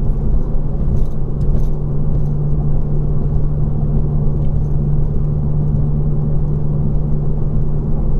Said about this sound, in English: Here is just the sound of the car and road noise alone.